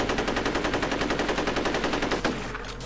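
Gunfire in the video game F.E.A.R. comes as a rapid automatic burst of close, loud, evenly spaced shots lasting about two seconds, then ends in a sharp crack and a fading tail.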